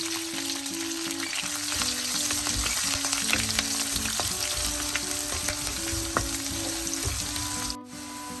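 Mustard seeds, cumin, curry leaves and crushed garlic fry in hot oil for a Sri Lankan breadfruit curry, giving a steady loud sizzle and crackle with occasional pops and a brief stir near the end.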